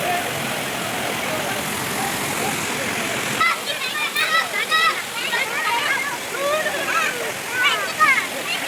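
Forest waterfall at Maredumili, a continuous rushing roar of falling water heard close and loud throughout, with a voice talking over the first part and splashing and chatter-like bursts later.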